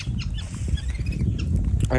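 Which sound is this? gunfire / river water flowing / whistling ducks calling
whistling ducks calling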